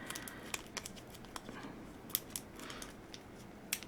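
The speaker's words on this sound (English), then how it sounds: "let me get a little piece of tape here and just wrap that end around" A small piece of tape being pulled and wrapped around the end of a Dollar Tree wind chime part: faint, close crinkling and light ticking, soft and irregular, no talking.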